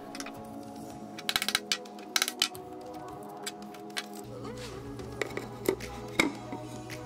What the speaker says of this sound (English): You didn't know you could cut plywood with a chisel